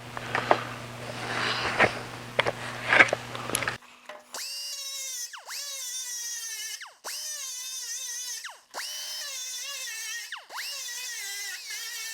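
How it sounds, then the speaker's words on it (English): A small 2-inch handheld grinder whines steadily, its pitch dipping repeatedly as it bites into a weld on an aluminum Jaguar E-Type bonnet in several pulses, preceded by a few seconds of scraping and clatter. "I think I can get it with this 2-inch grinder here."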